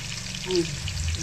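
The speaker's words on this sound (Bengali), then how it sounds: "কড়াইতে তেল দিয়ে আলু ছেড়ে দিয়েছি, গরম করে তেল" Potatoes fry in hot oil in a wok, giving a steady close sizzle and crackle throughout the short moment, with a brief brighter hiss near the middle.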